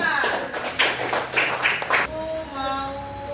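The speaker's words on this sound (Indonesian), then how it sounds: "Tepuk tangan untuk kelompok 5." A small class group claps for group five, a few distinct bursts of hand claps at close range under talk, then a voice continues after the clapping stops.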